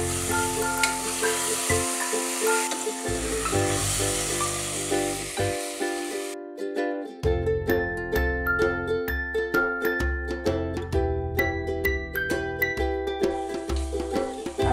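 Chicken frying in a pressure cooker with softened tomatoes and ginger-garlic paste gives a steady sizzle and occasional stirring scrapes, with music playing underneath throughout.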